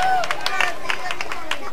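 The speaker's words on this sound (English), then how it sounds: "give her a big round of applause" Audience applause at a school show, light scattered clapping from a crowd with a babble of voices mixed in, steady and moderately loud.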